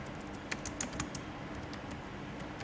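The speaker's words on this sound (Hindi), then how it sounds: "यहाँ से आपने ये टाइप करना है क्रिएट फ्री वेबसाइट कॉमा, ठीक है, एंटर प्रेस कर देना है।" Steady typing on a computer keyboard, soft rapid key clicks with a few louder taps, close and continuous with no talk.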